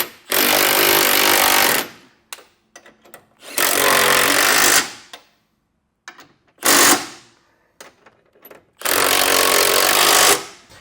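A power impact tool snugs down the hitch bolts of an EcoHitch hidden front-mount trailer hitch, giving four loud hammering bursts of about one to two seconds each, separated by short pauses with small clanks.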